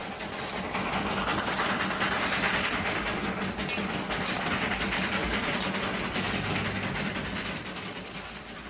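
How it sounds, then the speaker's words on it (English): A small steam locomotive running on the Darjeeling Himalayan Railway: steady, loud rumbling of the engine and rolling wagons, continuous and close, with no speech. "18 little locomotives run back and forth on the Darjeeling Himalayan line."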